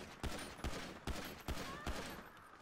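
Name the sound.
gunshots from GTA 5 video game, police shooting suspect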